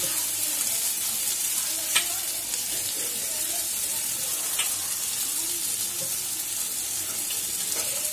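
Garlic and ginger paste hitting softened tomatoes in a hot pan for a Bengali katla fish curry, giving a steady close sizzle with a few sharp scrape and clink accents, no voices.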